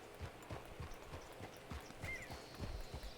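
A horse jogs along in Red Dead Redemption 2, its hooves clip-clopping in a steady, fairly quick rhythm with a faint whinny-like tone partway through.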